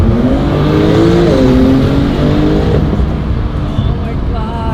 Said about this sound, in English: Wow, this car really shifts so fast.